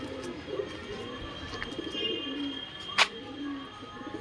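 Pigeons loose beside a newly built coop coo softly in low, rolling burbles, faint and somewhat distant over light background noise, with a brief sharp knock partway through.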